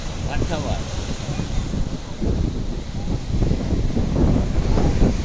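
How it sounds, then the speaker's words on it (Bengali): Rough high-tide sea at Digha beach churns with continuous crashing surf and buffeting wind noise, building louder toward the end, with no voices. "সমুদ্র তখন উত্তাল চলছে, জোয়ার চলছে সমুদ্রের মধ্যে।"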